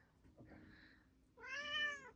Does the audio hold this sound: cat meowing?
yes